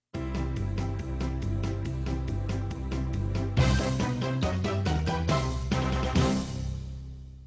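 A Broadway-style ending played on a keyboard, with full chords over a steady beat and a busy, loud arrangement that builds through a couple of bright accented hits toward the close, with no talking.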